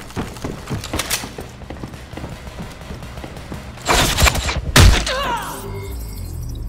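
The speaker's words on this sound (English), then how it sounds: "The enemy is using an arm launcher." Arm launcher gunfire during combat in the Ghost in the Shell: Stand Alone Complex video game, with rapid popping shots followed by a couple of heavy booming blasts and mechanical whirs, loud and close.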